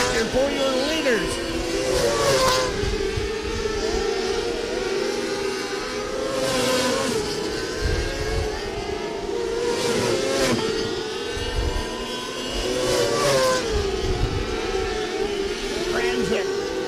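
600cc micro sprint race cars lapping a speedway at night, engines rising and fading in repeated high-pitched passes roughly every three seconds over a steady roar, with an announcer talking over the racing.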